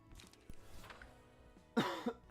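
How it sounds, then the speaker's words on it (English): A few sharp coughs burst out close by near the end, after a stretch of quieter background noise. "Oh, I got a cough."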